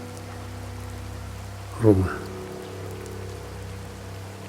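Rain falls steadily around a car on a road, a soft, even wash over a low engine hum. A brief voice rises near the middle.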